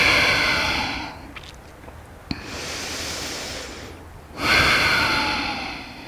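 Slow, steady breathing during a full-body yoga flow, a long airy inhale-exhale hush rising and falling close by, with a quiet pause and a small sharp catch in the middle.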